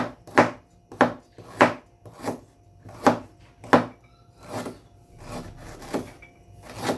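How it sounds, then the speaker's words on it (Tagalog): Unpeeled, washed ginger is sliced with a knife on a wooden cutting board in a home kitchen, about a dozen crisp, evenly spaced chops, close and loud, with no talking. "Kaili, slice muna natin yung sangkap habang pinapakuluan natin yung laing Kaili"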